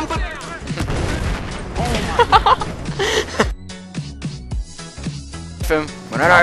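Gunfire in Battlefield 4, with bursts of shots and sharp cracks over busy game noise, a sparse run of separate shots near the end, and players talking throughout.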